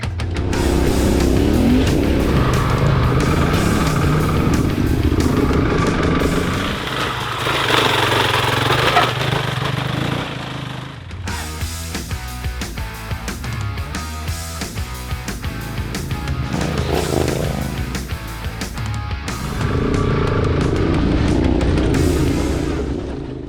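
A dual sport motorcycle, a Yamaha Tenere 700 or Gas Gas ES 700, climbs uphill off-road with a loud, continuous engine roar that rises and falls as the rider works the throttle, recorded close to the bike.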